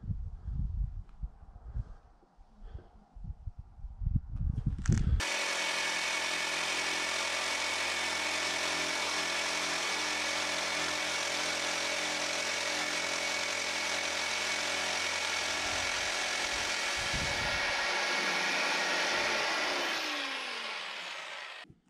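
After a few seconds of scattered knocks and handling noises, a jigsaw starts and runs with a steady, loud mechanical whine for about fifteen seconds, then stops.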